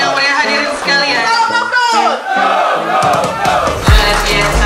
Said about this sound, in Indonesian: Kita berikan tepuk tangan yang meriah hadirin sekalian.